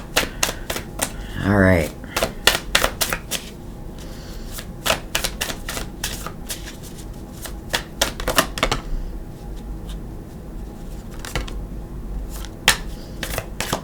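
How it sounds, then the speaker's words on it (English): Tarot cards are shuffled by hand in quick, crisp riffling bursts that repeat through the stretch, with a voice speaking briefly in between. "And I am going to shuffle for your cards."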